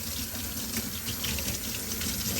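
Warm water pours steadily from a tap over a Ryobi 18v stick vacuum filter being washed with dish soap, giving a continuous, even splashing rush with no talk.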